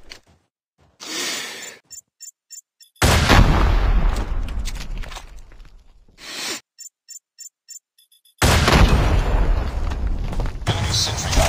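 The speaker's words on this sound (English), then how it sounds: "Enemy sentry gun has been destroyed." Heavy gunfire and booming blasts in a video game as an enemy sentry gun is shot apart, two long loud bursts broken by short beeping electronic tones and brief quieter gaps.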